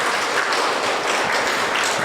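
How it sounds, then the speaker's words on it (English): An audience at a Geeta Gyana Yagna talk bursts into loud, close applause, a dense and steady patter of many hands clapping at once, with no voices over it. "So please, one time claps."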